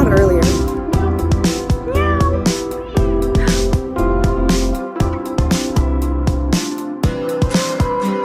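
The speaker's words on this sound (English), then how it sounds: "It meowed earlier." A cat meows in a bustling outdoor square in front of a cathedral in Italy, its calls rising over steady crowd chatter, footsteps and clattering noise close by.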